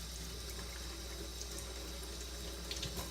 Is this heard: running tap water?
yes